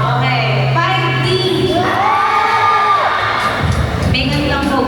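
Crowd of children shouting and cheering at an awards event, a loud sustained swell of many young voices with whoops rising and falling throughout.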